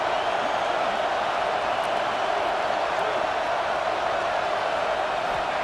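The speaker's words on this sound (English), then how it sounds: "This crowd bringing the energy and noise early." A constant roar of stadium crowd noise in a college football video game, dense and unbroken, like a packed arena cheering throughout.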